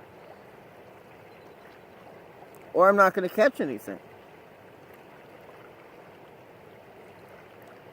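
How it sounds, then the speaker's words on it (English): Steady river current rushes and burbles throughout at moderate level, with someone briefly talking over it partway through. "here on the river where the fish are"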